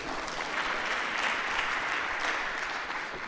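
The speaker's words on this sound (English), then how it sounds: "A round of applause, please." Sustained applause from an audience following a keynote talk, steady and fairly loud throughout with no pauses.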